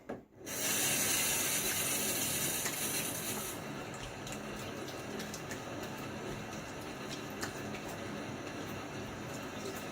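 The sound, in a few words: rinsing a razor under running tap water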